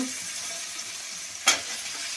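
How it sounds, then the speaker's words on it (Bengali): Beans frying in a pan with ginger, cumin and spices, a soft steady sizzle with one sharp scrape of stirring midway. "এর মধ্যে শিমগুলো দিয়ে ভেজে নেবো"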